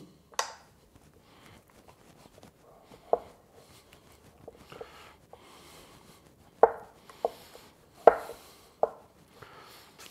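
Pizza dough for a guanciale pizza, no longer sticky, kneaded by hand on a work surface: irregular soft slaps and presses, a few sharper, over a quiet background with no talking.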